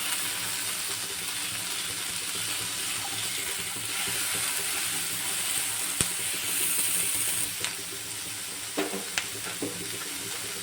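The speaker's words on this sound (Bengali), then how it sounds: "পেঁয়াজগুলো দিয়ে দেব। দিয়ে আমি ভেজে নেব।" Chopped medium onions fry in oil in a wok, giving a steady, fairly loud hiss and sizzle with a few sharp clinks of stirring toward the end, and no voices.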